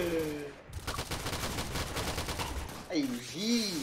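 Rapid bursts of automatic gunfire rattle in the shooter video game Point Blank, a fast run of repeated shots between brief stretches of excited talk.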